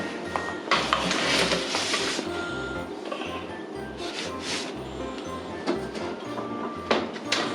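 A pan of cinnamon sugar pecans goes into the oven: metallic clatter of the pan, rack rattles and the oven door being handled, moderately loud and close with a low hum underneath.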